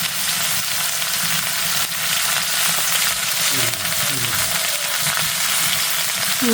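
Cauliflower vegetable curry frying in a pan, a steady loud sizzle running throughout with occasional scraping and clinking as it is stirred, and no talk over it.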